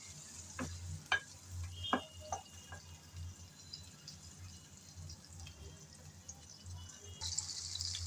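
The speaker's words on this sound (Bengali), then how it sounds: "কয়েক মিনিট একটু নেড়ে চেড়ে ভেজে নিলাম। এখন তেল থেকে চিংড়িগুলো তুলে নেব।" Shrimp frying in hot oil while being stirred, with a quiet, steady sizzle under a few sharp spoon scrapes and taps early on, then a calmer bubbling hiss throughout.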